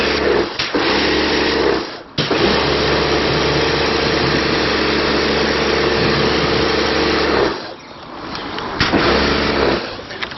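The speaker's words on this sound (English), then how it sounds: "really good pressure coming out of these nozzles" Pressure washer fitted with a quick release trigger sprays through a yellow 15-degree nozzle during car cleaning. A loud, steady motor drone and spray hiss cut out briefly twice, near the start and near the end.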